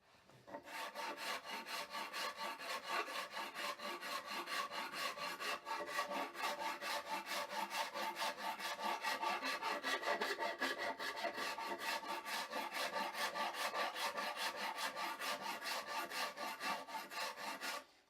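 A wooden guitar neck is hand-shaped with a rasp or file in a custom build. Rapid, even scraping strokes run continuously and close up for the whole stretch, with no voices.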